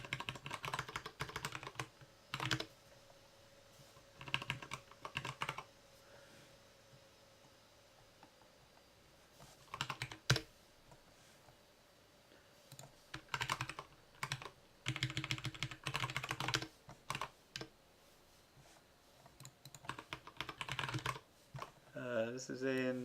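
Computer keyboard being typed on in irregular bursts of quick clicks separated by short pauses, close but fairly quiet, with occasional soft sounds in between.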